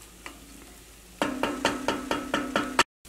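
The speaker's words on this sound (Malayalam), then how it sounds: "ഇടയ്ക്ക് നമുക്കൊന്ന് ഇളക്കി കൊടുക്കുകയും ചെയ്യാം" Soya chunks in thick masala frying in an open pan, stirred with a spoon in a quick run of about seven scraping strokes over a steady sizzle, close and clear, ending abruptly.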